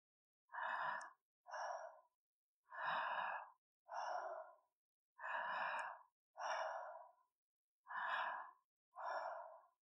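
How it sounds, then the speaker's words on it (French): Slow, deep human breaths in a calm, even rhythm: four paired cycles of inhale and exhale, each lasting about a second, close and alone with silence between them. "Continue à respirer."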